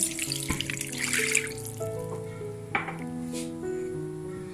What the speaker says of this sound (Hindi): इसके अंदर मैं 1 गिलास पानी डाल दूंगी